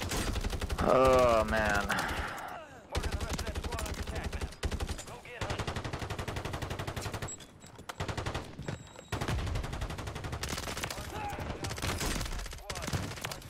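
Rapid automatic bursts from the SOA Subverter rifle in Warzone, loud, close and sustained in long repeated volleys, with players talking excitedly over the shooting.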